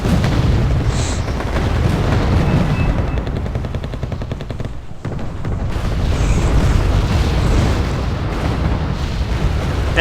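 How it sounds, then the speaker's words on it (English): War video game battle with T-55 tanks, loud and dense: rapid machine-gun bursts, repeated booming bomb explosions and rumbling blasts fill the whole stretch, briefly dipping midway before surging again. "He is still bombing himself!"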